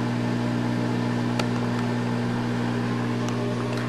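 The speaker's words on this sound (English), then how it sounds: "You should never ever microwave water by itself, like I'm doing." A microwave oven heats a cup of water, giving off a steady, even hum with a strong low drone and a faint fan hiss, close by and unchanging, with a couple of tiny clicks.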